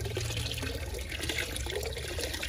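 Water splashing and pouring steadily as a batch of fish is tipped into a backyard pond, a continuous close wash of liquid with no talk over it.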